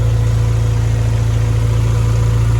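A Honda Integra engine idles steadily after an idle adjustment, a loud, even low rumble with a constant throb that holds the same pitch throughout, with no talking.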